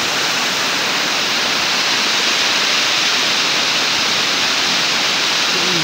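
Aruyan Falls at Sablayan Prison and Penal Farm pours as a loud, dense, unbroken roar of rushing water, close and steady from start to finish.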